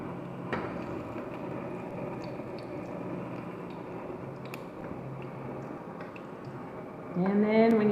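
A chile relleno fries in hot oil that is splashed up over its sides, giving a steady crackling sizzle throughout, with a voice talking over it near the end.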